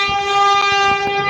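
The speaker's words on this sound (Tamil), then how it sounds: "அடே ட்ரெயின் வருதுடோ." A passing train sounds a loud, steady horn held through the whole moment, with faint rumbling and clacking underneath.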